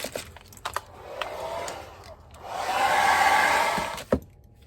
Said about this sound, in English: I don't think a hairdryer will do enough heat to it, but let's try it.